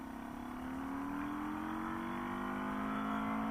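A 1996 Suzuki DR650 single-cylinder motorcycle engine held at full throttle, a steady loud drone whose pitch climbs slowly over a few seconds, close to the microphone with no voices.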